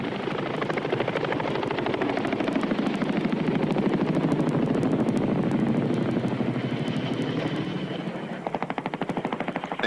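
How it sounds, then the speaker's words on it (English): Cobra helicopters of the 11th U.S. Armored Cavalry patrol the inter-German border, their rotors beating in a rapid, steady chop under a loud, continuous engine roar that holds close and strong throughout, with no one talking. "the Cobra helicopters of the 11th U.S. Armored Cavalry patrol the inter-German border"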